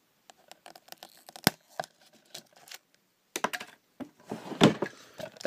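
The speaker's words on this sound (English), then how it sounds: "To get a pencil out of the drawer and poke a hole in it." A pencil jabs and pokes through plastic wrap during an unboxing, giving a string of sharp, close crinkles and clicks in irregular bursts, with quiet pauses and a busier stretch near the end.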